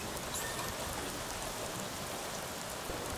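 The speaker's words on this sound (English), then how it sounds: "Still a wonderful rainy night at the mall." Steady rain falls at night around a mall in the video game NORCO, a faint, even hiss of drops that continues throughout without any voices.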